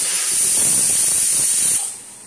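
A pressure cooker boiling potatoes hisses out steam in one loud, continuous close burst that cuts off abruptly near the end, leaving a fainter residual hiss.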